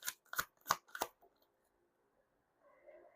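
Tarot cards being shuffled: four crisp riffling bursts in quick succession, close and fairly quiet, then near silence and a faint soft rustle at the end.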